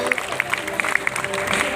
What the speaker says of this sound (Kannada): ಜೋರಾದ ಚಪ್ಪಾಳೆಯ ಮೂಲಕ